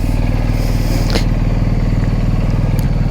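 A loaded BMW R1250 GS Adventure motorcycle rumbles loudly and steadily up close as it sets off at an off-road riding park, its boxer engine pulsing evenly throughout.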